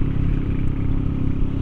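A Yamaha NMAX 155 scooter fitted with a TZM racing exhaust idles nearby, giving a steady, rough, throbbing low burble with slight clatter and no voices.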